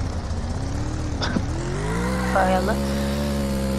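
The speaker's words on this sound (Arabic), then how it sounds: "اهو هو ده ترسبن، هو ده الموتوسيكل" Motorcycle engine in the video game Roblox Jailbreak, a steady buzzing hum that rises in pitch as it revs, heard under someone talking in Arabic.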